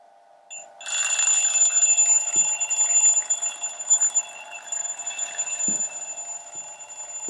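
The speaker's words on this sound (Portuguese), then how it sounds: "o despertador a tocar" An alarm clock rings continuously and loudly inside a glass bell jar, a steady bright metallic jangle that holds at full strength from start to finish. Only a few faint bumps sound beneath it, and no vacuum is being pulled yet.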